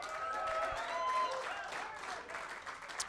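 Crowd applause at a live show in a hotel bar fills the whole stretch with steady, dense clapping. Faint voices and some tonal noise blend in underneath.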